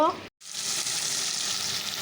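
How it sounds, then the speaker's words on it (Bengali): Small fish frying in a pan give off a steady, close, broadband sizzle that cuts out briefly near the start, then hisses on evenly without speech. "ছোট মাছটা ভেজে নেব"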